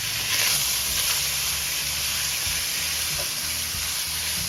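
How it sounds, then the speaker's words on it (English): Bacon frying in a pot for a Jamaican chayote and saltfish dish, a steady close sizzle and crackle that holds evenly throughout, with no talk. "we're gonna start frying our bacon now."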